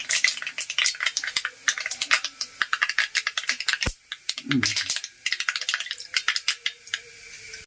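Mustard seeds splutter in hot oil for a Kerala village-style rasam, a dense run of quick sharp pops and crackles, close and fairly loud, with a brief pause midway.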